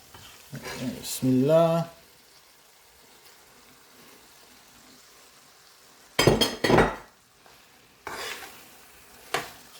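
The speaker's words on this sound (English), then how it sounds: "So I'm just give it a stir, making sure it's covered with all the spice mixture." Monkfish pieces frying and being stirred through a curry spice mixture in a pan, with bursts of stirring and sizzle between quiet stretches; a brief spoken word comes early.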